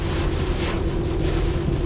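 Wind buffets steadily while heavy rain pours during Hurricane Dorian in Nova Scotia, heard from inside a Ford F350 Powerstroke pickup as a loud, constant roaring wash with a low engine hum beneath.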